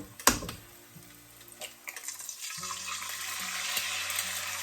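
Eggs are stirred into frying beef pad thai noodles, with a spatula clack at the start and scattered scraping clicks over a soft, steady sizzle. The sound is close and moderately quiet.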